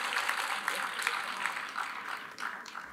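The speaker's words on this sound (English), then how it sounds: "So a big round of applause for everyone who is receiving the awards today in the house." Applause from an awards-ceremony audience honouring research award recipients, a dense steady wash of many hands clapping that holds through the whole moment, moderately loud with a faint voice underneath.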